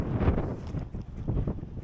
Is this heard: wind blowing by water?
yes